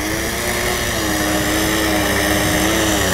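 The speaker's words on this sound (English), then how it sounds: "It's a good tractor right there." Steady tractor engine running during wood-cutting work, a continuous low drone with a faint wavering tone throughout, loud and close with no talking.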